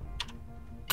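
A computer keyboard tapped briefly: a couple of quick close clicks, a short pause, then another sharp keystroke at the end.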